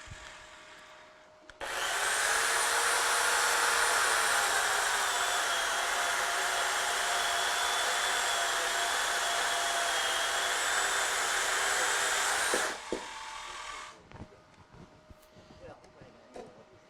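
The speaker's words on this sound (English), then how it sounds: "I'm going to cut a couple pieces here to show how to rip as well as cross cut on the bandsaw." A woodworking bandsaw rips and crosscuts a wooden board in a club shop demonstration, a loud, steady high whine lasting about eleven seconds that drops to a fading motor hum and faint handling noises, heard close.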